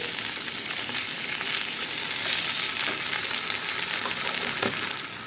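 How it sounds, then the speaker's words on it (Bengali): Potatoes and pointed gourd fry hard over high heat in a pan, producing a dense, continuous sizzle with occasional small clinks and crackles, close and unaccompanied by voices. "আলু পটল সবগুলো জোর আঁচে দিয়ে ভালো করে আগে ফ্রাই করে"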